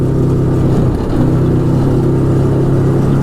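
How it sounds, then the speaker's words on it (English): The 1000cc V-twin engine of an Arctic Cat Wildcat 1000X side-by-side runs with a deep, throaty, steady rumble, loud and close, with a slight rise in revs early on and no talk. "This thing has a very throaty sound to it. Nice V-twin sound."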